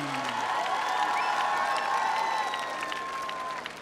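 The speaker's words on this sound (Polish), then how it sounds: "Wielkie brawa" Steady applause from a large concert audience at Wianki nad Wisłą, dense clapping with scattered whistles and cheers, fading slightly at the end.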